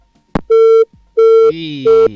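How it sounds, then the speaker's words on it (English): Call dropping on a phone-in radio line: a click, then three loud electronic busy-signal beeps, each about a third of a second, with a brief muffled voice-like sound between the later beeps. "And the line went."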